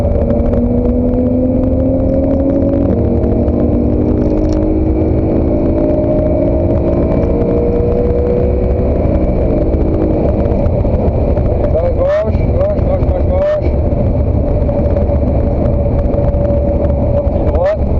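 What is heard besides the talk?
race car accelerating at Spa-Francorchamps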